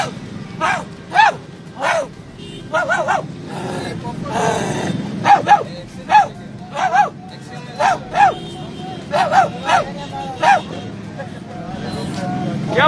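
A man imitates a barking dog as a street protest, giving repeated short loud barks in clusters, with a crowd murmuring and traffic honking faintly in the background.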